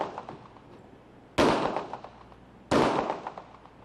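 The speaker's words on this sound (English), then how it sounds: "See for yourself as the officer fires the weapon. The bullet penetrates this piece of metal." Two sharp, loud .40 caliber gunshots fired by an officer into a piece of metal, spaced about a second and a half apart, each a sudden broadband crack with a short decaying tail over low background noise.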